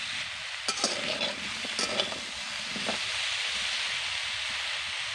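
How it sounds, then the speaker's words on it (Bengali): Vegetables for Bengali shukto fry in a pan, a soft continuous sizzle with a few clinks and scraping stirs of a spatula against the metal near the start, then a steady frying hiss alone. "কিছুক্ষণ ধরে সবজিগুলোকে আমি ভালো করে ভেজে নিয়েছি।"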